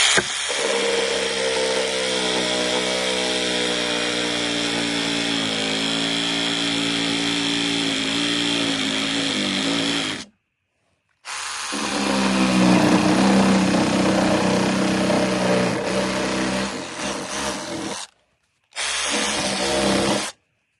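A Sturmax RSM8801CR cordless reciprocating saw with a universal blade cuts loudly and close in three long buzzing runs separated by brief pauses.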